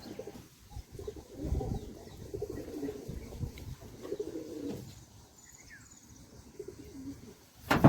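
Pigeons coo softly in low, murmuring bursts at a loft where a red pigeon is feeding and one bird is sick, with faint bird chirps and a brief louder rustle at the end.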